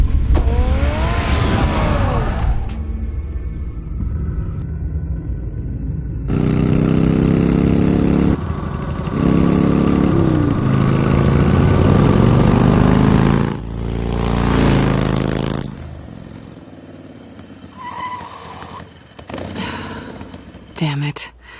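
A car in the video game Batman from Telltale drives with a low engine drone that swells and fades across several stretches, mixed with other game sounds and brief vocal noises.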